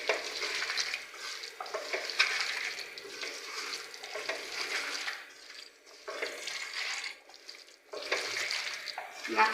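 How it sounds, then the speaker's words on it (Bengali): Softened potatoes are mixed with oil by hand in a bowl, giving wet, squelching, sticky mashing sounds in repeated bursts with short pauses, close up. "তেল দিয়ে ভালোভাবে মেখে নেব।"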